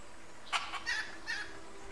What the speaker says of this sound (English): Demon chickens live. They mock me. You hear the noises?